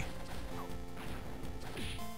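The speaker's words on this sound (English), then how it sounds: "that stinking explosion! It got me every time" A short, loud crashing explosion burst in Castlevania: Harmony of Dissonance, dense and continuous over about two seconds, with game music and effects layered together.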